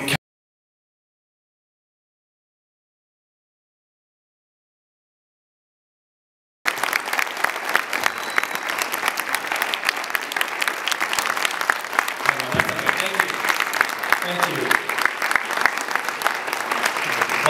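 Audience at a Power Luncheon celebrating a 20th anniversary applauding to welcome a speaker, dense sustained clapping from a large crowd beginning after several seconds of silence and continuing steadily to the end, with faint voices beneath.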